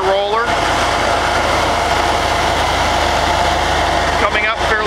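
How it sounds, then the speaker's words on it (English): A pneumatic rubber tire roller's engine runs steadily at a low idle-like drone during chipseal paving work, loud and continuous, with people talking over it. "Here is a pneumatic rubber tire roller."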